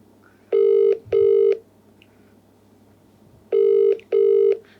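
A telephone rings out during a prank call, two pairs of double ring bursts separated by a gap of quiet line hiss.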